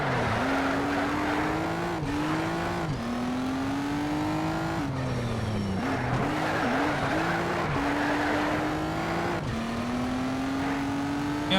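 A race car laps in Need for Speed: Shift, its engine note climbing and dropping through gear shifts with occasional tire squeal, loud and constant throughout, with no speech.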